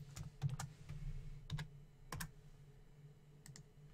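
Keystrokes on a computer keyboard while entering text in Photoshop, a quiet run of separate clicks in small bursts with pauses between them, heard close over a low background hum.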